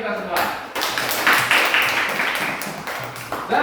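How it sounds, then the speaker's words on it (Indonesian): Classroom applause from a class of students, a dense patter of clapping filling the room for a few seconds alongside voices. "Baik, tepuk tangan untuk kita semua"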